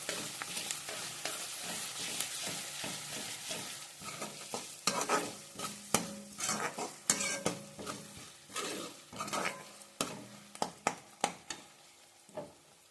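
Onions and ginger-garlic paste frying in a pan for a Marathi-style chicken curry: a constant sizzle under brisk, repeated scraping and clanking of a spatula against the pan, close and clear, growing sharper and more spaced toward the end.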